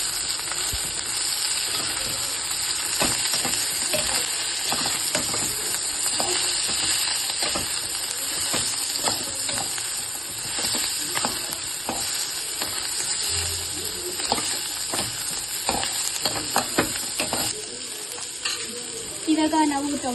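Coriander and mint fry in oil for mutton sambar, a loud continuous sizzle up close, broken by frequent sharp scrapes and clicks of a spoon stirring through the pan.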